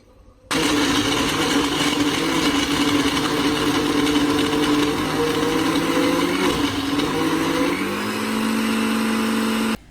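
A blender runs steadily for about nine seconds, mixing a hair mask of avocado, egg, honey, olive oil and water. The whirring is loud and close, its pitch shifts slightly before it cuts off.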